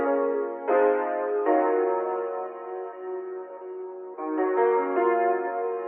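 Soul-style piano sample played back with the formant shift set to zero: sustained, rich chords change a few times, full and resonant, alone with no voices.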